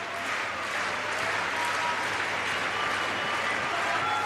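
A tennis crowd at the 2004 BNP Paribas final applauding steadily, a dense wash of clapping from a large audience with a commentator speaking over it.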